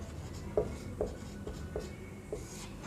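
A pen or marker writes on a board in short strokes, about six faint scratchy squeaks at a steady pace, heard over a low background hum with no talking.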